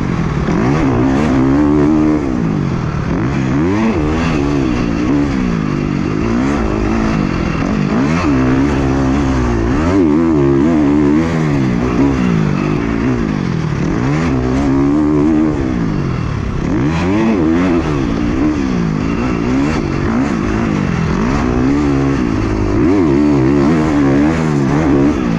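A 2021 KTM 350 SX-F dirt bike fitted with a Rekluse auto clutch rides close by, its engine revving up and down in repeated rising and falling sweeps, loud and continuous throughout.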